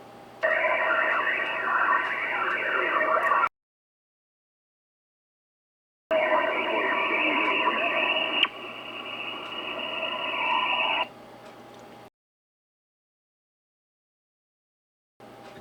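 Bursts of noisy HF radio signal on 40 meters through a Chameleon MPAS 2.0 vertical antenna, loud hiss and tones lasting a few seconds each, separated by dead silence, with a quieter stretch of static near the end.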